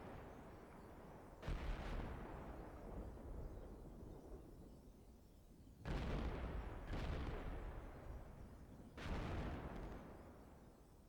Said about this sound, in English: we're going to admire the explosions here for a second